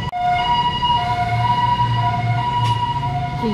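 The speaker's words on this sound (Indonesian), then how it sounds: "Karena dekat jalan raya ada ambulan juga." Ambulance siren on a nearby main road, its steady tones held loud and close over a rumble of road traffic, with no talking.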